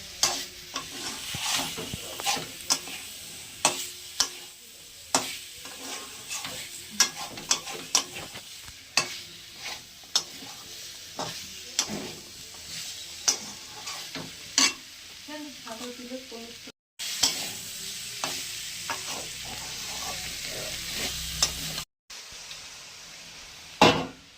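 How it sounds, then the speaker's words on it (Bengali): Fried cauliflower is stirred into a yogurt-based curry with peas in a pan, spatula scraping and clacking in frequent irregular strokes over a steady sizzle, close and moderately loud, with no talking. "কপি ভেজে রেখেছিলাম এটাও দিয়ে দিলাম, আর একটু কষিয়ে নেবো"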